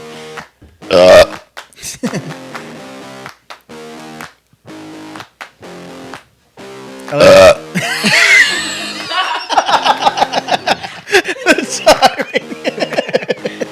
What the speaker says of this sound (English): How about another burp